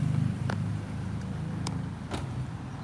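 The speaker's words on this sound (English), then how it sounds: "so you can hear the cars" Cars driving on the cobbled calzada of a small town high street in central Portugal, a steady low rumble of passing traffic with a few brief clicks, heard at moderate distance.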